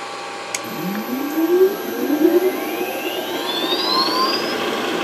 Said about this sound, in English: let me fire this motor up here